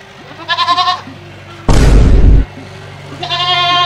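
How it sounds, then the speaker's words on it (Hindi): A goat for sale gives two quick runs of nasal, wavering bleats, one near the start and one at the end, separated by a sudden loud burst of noise. "बकरा ले लो"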